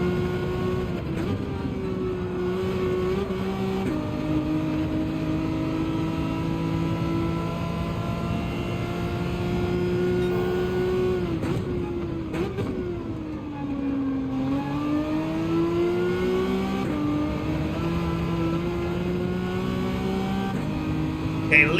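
A Citroen race car in Gran Turismo 7 drones through a circuit, its engine note climbing and dropping through gear changes as it accelerates off corners, steady and close, with a commentator talking over it.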